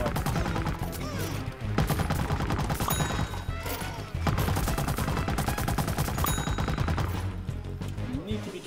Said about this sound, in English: I'm going to shoot at these guys first.